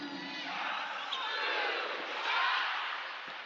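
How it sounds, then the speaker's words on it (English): A basketball arena crowd at a WNBA game between the Las Vegas Aces and Atlanta Dream yelling and cheering in a sustained roar that swells and rises, with a faint voice under the noise. "We have a very interactive crowd here at the house."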